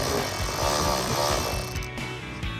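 A screw securing a replacement headlight on a 2005-2011 Toyota Tacoma is driven back in with a power tool, giving a close, loud mechanical whir with buzzing gear noise that rises and eases over a couple of seconds.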